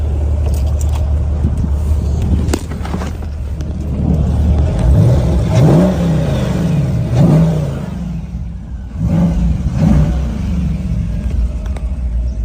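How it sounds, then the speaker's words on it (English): A truck engine at a Florida car show is revved several times, loud close rumbling rises and falls in repeated swells over a steady idle. "I'm gonna go ahead and give this thing a rev so you can hear this engine"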